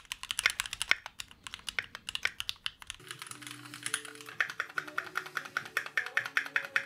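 Rapid typing on a Keychron Q2 mechanical keyboard makes a quiet, dense stream of close clicks and clacks. Soft, steady tones sit under the keystrokes in the second half.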